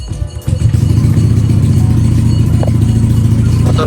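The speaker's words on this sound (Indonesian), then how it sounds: "Motor langsung gampang nyala ya" A Yamaha NMAX scooter engine catches after a brief crank and settles into a steady, loud, close idle.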